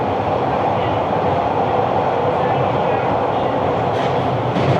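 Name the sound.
Toronto subway train running between stations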